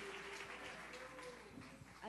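A church congregation claps their hands together during a worship service, a dense, steady patter of applause with voices and a faint sustained tone mixed in.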